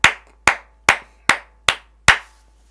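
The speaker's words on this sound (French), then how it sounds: "Est-ce que quelqu'un veut bien acclamer pour la gloire de Dieu" Six sharp, crisp claps ring out at an even, measured pace in a church worship setting, each a single loud slap with a quick decay and near silence between them.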